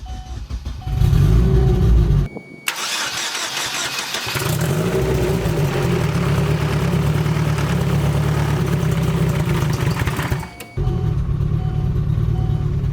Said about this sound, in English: Let's go ahead and see if we can't fire this thing up.